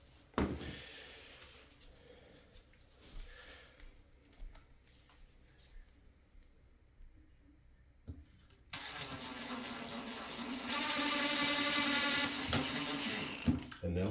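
Power drill driving screws during a high-end Vigo door installation: bursts of whirring motor, a short run near the start and a louder sustained stretch in the second half, with quieter handling noise between.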